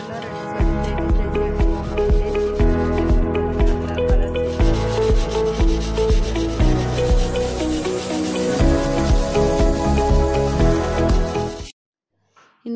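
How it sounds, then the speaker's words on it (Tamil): A copper vessel is scrubbed hard with rock salt and Sabeena cleaning powder, giving a continuous, close, gritty rubbing and scraping that runs for about twelve seconds before stopping abruptly. "சபீனாவையும் கல்லுப்பையும் வச்சு நல்லா தேய்ச்சி எடுத்துக்கோங்க"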